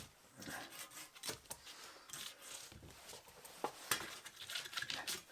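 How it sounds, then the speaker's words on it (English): A Veritas dovetail saw cuts wood in short, quiet, rhythmic rasping strokes, a faint scratchy back-and-forth close to the microphone. "Let's give it a little saw."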